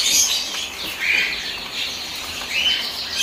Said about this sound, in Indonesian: Jalak kapas bos.